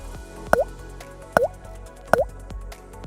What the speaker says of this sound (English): Simply pour the cleaner into the gas tank.